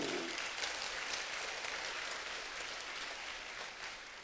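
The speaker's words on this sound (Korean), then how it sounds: "박수 좀 하셔." Congregation applause in a church service, steady, even clapping from a crowd that holds at a constant level throughout, with no voices over it.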